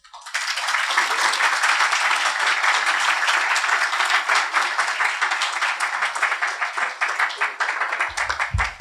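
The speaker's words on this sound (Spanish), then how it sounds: "Con estos aplausos agradecemos la ponencia" Audience applause following a history lecture on Vicente Rocafuerte, dense steady clapping that rises almost at once, holds loud and even for about eight seconds, then thins out as a voice starts to speak at the end.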